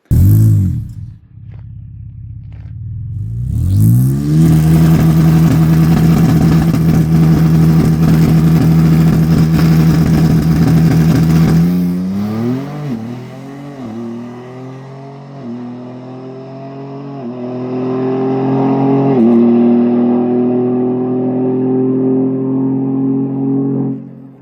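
A stock-turbo 3.0L Ford Explorer drag car idles, then holds a loud steady high-revving note on the two-step before launching hard, the engine pitch climbing through the gears as it pulls away.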